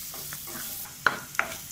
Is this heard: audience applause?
no